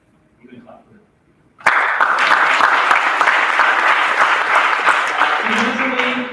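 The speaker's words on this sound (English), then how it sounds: "You can clap for it." After a brief quiet moment with a faint voice, an audience at a school athletic recognition night bursts into loud, sustained clapping for a first-ever lacrosse league championship, the applause holding steady to the end.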